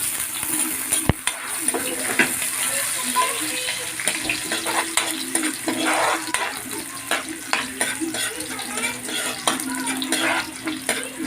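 Garlic and onion frying in a pan while cooking sinigang sa miso with milkfish, a steady close sizzle with repeated scraping stirs over it, no talk.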